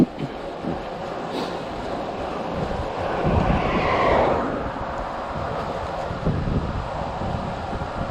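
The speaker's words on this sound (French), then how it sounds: "faut que je fasse gaffe parce que le vent est assez fort quand même" Strong wind buffeting outdoors, a continuous rushing roar with gusts swelling louder midway and again near the end, close and dominant.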